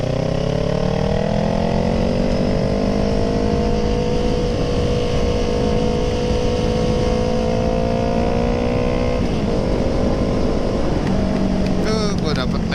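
A Kawasaki ER6N motorcycle speeds along a road at around 100 km/h, its engine a loud, steady drone with slowly rising pitch and heavy wind rush, then shifting near the end.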